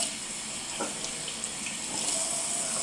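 A cold tap runs steadily into a sink, rinsing a kimchi jar with a continuous close splashing rush and a few faint clunks of the jar, no talking.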